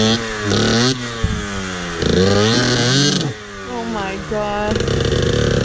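Dirt bike engine on a trail ride, revving in loud bursts with rising and falling pitch, close by; excited voices exclaim over the engine noise.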